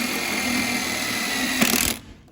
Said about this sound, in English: Grab some of these screws and just screw it right in.